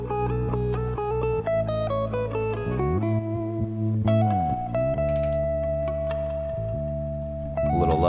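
Plucked guitar notes drenched in reverb and delay, produced in Ableton for a lofi mix, ring out in a steady melodic line with sustained echoing tails, loud and up front, with no talking.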